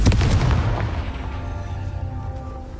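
Confringo fire spell blasts in the Hogwarts Legacy video game, a loud booming explosion burst at the start with a rumbling, crackling decay that lingers throughout.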